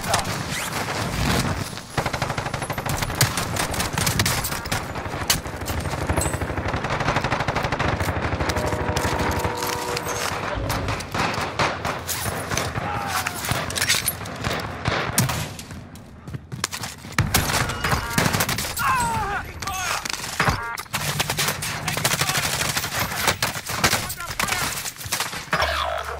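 Gunfire in Call of Duty: Warzone: long stretches of rapid automatic bursts and scattered single shots, loud and close, with brief lulls, game effects and occasional voices underneath.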